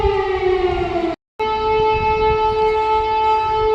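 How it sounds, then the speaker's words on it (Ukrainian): An air raid siren over a Kyiv cemetery blares a loud, steady, sustained wail that cuts out for a fraction of a second and then resumes at full strength, with no voices. "почалась повітряна тривога"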